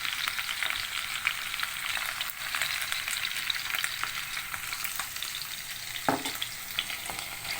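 Food sizzles steadily in a pan, a constant close hiss with occasional louder spits and a brief stir, no talking.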